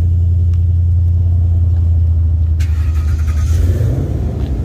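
At a car run event, car engines rumble loudly and steadily nearby, with one engine revving up toward the end. No one speaks.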